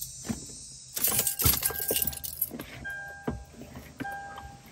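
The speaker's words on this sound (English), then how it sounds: "Let me get the keys." Keys for a Lexus GX470 jingle and clink several times in quick bursts, close to the listener, with faint car sounds in the background and no talking.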